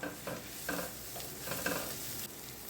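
Pepper and fennel powder sauté in an oily pan, a quiet close sizzle with a few rhythmic stirring strokes scraping the surface, and no voices.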